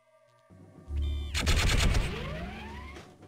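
Rapid automatic gunfire at a training target in the Gunman Chronicles video game, a loud dense burst of rounds lasting about two seconds, with rising electronic tones and trailing echoes.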